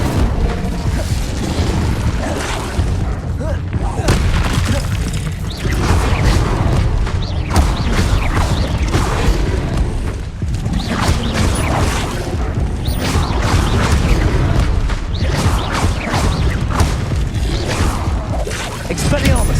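Incendio fire spells and other combat effects in Hogwarts Legacy on hard mode erupt in a dense, continuous barrage of loud whooshing bursts, crashes and impacts.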